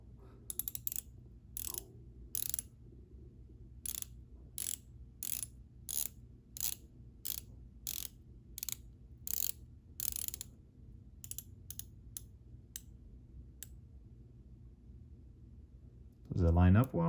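Rotating the bezel of a Seiko Monster or Heimdallr Sharky dive watch produces a steady series of sharp ratcheting clicks, close up and fairly loud over quiet background, with a voice briefly at the end.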